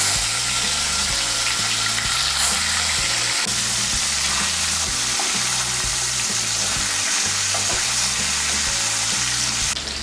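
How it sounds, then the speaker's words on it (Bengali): Hilsa fish pieces frying lightly in hot oil, a dense, loud, continuous sizzle over a low repeating musical beat, with no voices. "এর মধ্যে আমি ইলিশ মাছগুলো ভেজে নেব"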